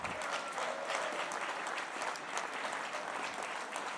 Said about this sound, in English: I want every one of you to give yourself a round of applause